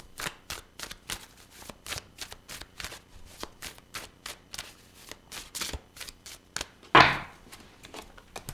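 Tarot cards are shuffled by hand in a steady, rhythmic series of crisp riffling flicks, close and fairly quiet, ending in a louder slap as a card is pulled from the deck.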